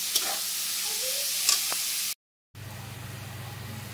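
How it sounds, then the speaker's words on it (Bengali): Onion frying in ghee in a pan, giving a soft, continuous sizzle with occasional stirring clicks; it cuts out briefly, then returns as a steadier, lower hiss. "পেঁয়াজটাকে একবার লাল করে ভেজে নিতে হবে"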